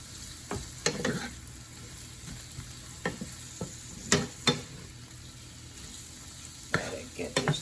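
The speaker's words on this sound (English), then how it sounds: "Let me stir it up." Garlic is stirred into onions frying in a pan: sparse, distinct spoon scrapes and taps against the pan over a faint, quiet sizzle, with no talking.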